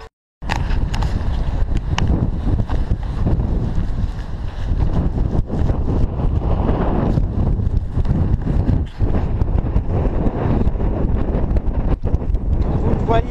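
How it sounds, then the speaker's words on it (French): Strong cold wind roaring and buffeting the microphone on a mountain ridge during an ultra trail race, loud and constant throughout after a brief silent start, with gusty surges and a few faint thumps. "Comme vous le voyez et comme vous l'entendez, je pense, il y a un vent de malade."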